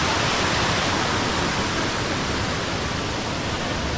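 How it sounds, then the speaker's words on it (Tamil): Water pours over the top of a waterfall in a hill region as a constant, loud, broadband rush. It is steady and even throughout, with no other sounds. "அதான் ஃபால்ஸோட டாப்."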